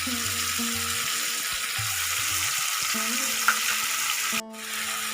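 Ginger and green chili paste frying in a pan for a potato and cauliflower curry, a steady broadband sizzle running throughout, with a brief dip near the end.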